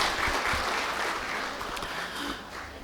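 An audience claps together at the opening of a savings and credit cooperative's annual general assembly in Nepal, a dense, steady burst of applause that fills the room and slowly tapers.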